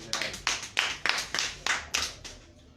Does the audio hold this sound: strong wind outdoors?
no